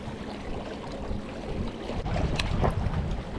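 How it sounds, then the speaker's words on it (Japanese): Wind blowing across Lake Kitaura on a bass-fishing outing, a loud, constant rushing buffet on the microphone with lapping water underneath, swelling slightly toward the end, with no voices. "北浦結構風吹いて、まあ、暑いんですけど、まあ、ちょっと心地よい感じでしたね"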